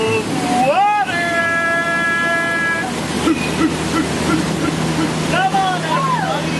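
At the Jungle Cruise ride in Magic Kingdom, a waterfall gives off a constant rushing hiss of water nearby, heard under a boat guide's lively talk and passengers' voices.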